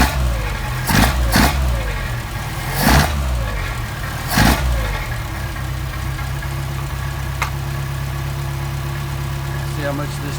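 A car engine fitted with a Solex carburetor idles too high with a steady, loud, close hum. Several sharp clicks or knocks punctuate the idle, and a person speaks briefly over it.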